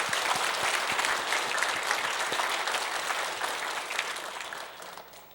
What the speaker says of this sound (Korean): 여기까지 인도해 주신 하나님께 영광의 박수를 올려드리십시오.